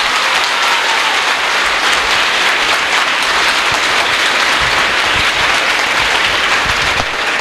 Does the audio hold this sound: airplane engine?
no